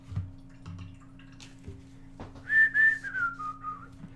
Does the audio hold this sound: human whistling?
yes